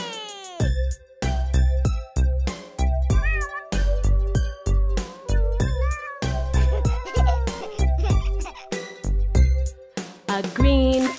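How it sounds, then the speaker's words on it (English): A cat meows loudly again and again in a steady rhythm over bright, sustained musical backing, each call distinct and close. "a white cat meows real loud"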